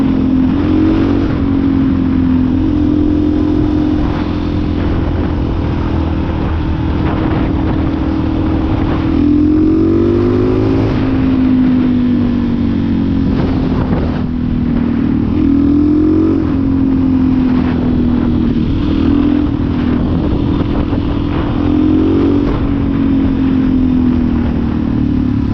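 A new motorcycle's engine drones steadily, swelling in pitch with repeated accelerations and gear changes while riding, loud and close throughout under wind noise.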